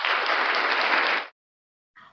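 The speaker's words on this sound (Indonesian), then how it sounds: "mari kita tepuk tangan dulu untuk Tuhan" Church congregation applauding at an evening worship gathering, a dense burst of clapping for about a second and a half that stops abruptly, followed by a short faint flutter of claps.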